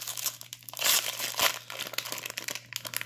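A crinkly plastic wrapper on a hockey card pack is torn open slowly and carefully, giving loud crackling crumples and a few sharper rips up close with no talking.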